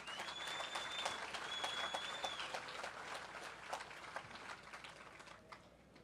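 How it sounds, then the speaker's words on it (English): Crowd applause at a Bassmaster Elite bass fishing weigh-in on the St. Lawrence River, a steady wash of clapping with whistles and cheers mixed in, fading slightly toward the end. "Let's give them a round of applause."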